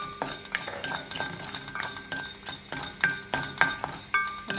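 Black pepper and coriander seeds dry-roasting in a hot pan for puliyodharai, with a rapid, irregular patter of seeds rattling and clinking against the metal as they are stirred, fairly close and without talk.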